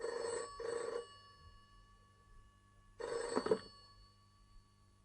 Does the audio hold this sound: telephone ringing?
yes